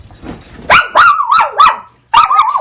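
A dog barks loudly and close by, a run of four sharp, rising barks followed by a pause and then one more bark.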